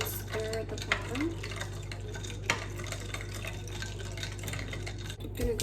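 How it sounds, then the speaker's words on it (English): A spoon stirs milk into iced coffee in a glass, giving faint, soft clinks and swishes of liquid, quiet and close, with a few sharper taps against the glass. "I'm going to go ahead and stir the bottom."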